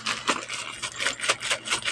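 Hard, large seed-like shells clink and rattle against each other, sounding like coins, in a quick, irregular run of bright clicks close by with no voices.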